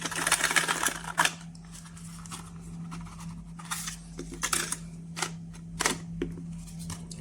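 A vape peripheral pouch is shaken out and opened, giving a run of light rustles, taps and clicks close by over a steady low hum, with no talking.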